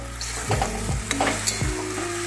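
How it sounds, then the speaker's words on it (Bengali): Bitter gourd and potato, fried earlier and now returned to a kadai, sizzle steadily while a spoon stirs and scrapes through them in a few distinct strokes, close and loud with no voices. "এবারে আমি দেখুন আমার উচ্ছে আর আলু যে ভাজা তুলে রেখেছি সেটা আমি এর সাথে দিয়ে একটু ভেজে নেব"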